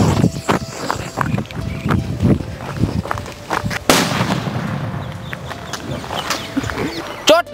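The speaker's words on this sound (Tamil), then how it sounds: "அதாவது வந்து பேப்பர் பாம்" A daytime paper bomb firecracker from Sivakasi goes off in one sharp, loud burst mid-clip, amid scattered thuds and knocks while someone talks throughout.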